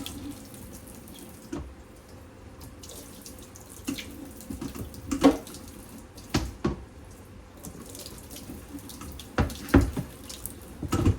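A kitchen tap runs water into a pot as it is rinsed out, a steady splashing flow with irregular louder sloshes and clinks, close by, with no talking.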